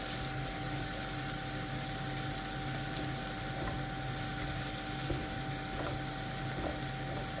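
Diced onions sizzle in a pan for a vegetarian pasta, a steady soft frying hiss with occasional faint stirring clicks, close and continuous with no talking.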